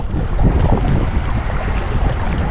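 A boat motor with no propeller drones steadily up close on a river, mixed with heavy wind buffeting and rushing water, loud and continuous throughout.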